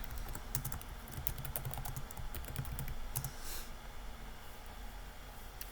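A website name is typed on a computer keyboard in a rapid, steady run of faint keystrokes over low background noise, slowing and stopping near the end.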